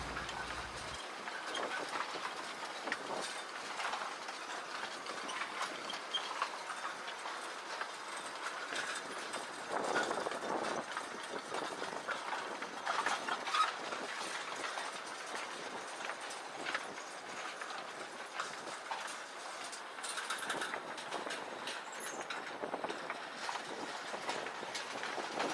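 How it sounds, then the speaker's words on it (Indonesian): A Kyosan Kogyo locomotive pulling empty sugar cane lorries on a sugar mill rail line, a steady rumbling run with rhythmic clattering of wheels and wagons, heard from close by without talk. "di belakang rangkaian lori kosong ini juga ada lokomotif Kyosan Kogyo yang lain teman-teman"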